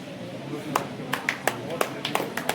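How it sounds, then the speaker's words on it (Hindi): Scattered, distinct claps from an audience at a college valedictory session, about a dozen sharp hits in a loose rhythm over a background of murmuring voices. "तालियां बजती रहनी चाहिए।"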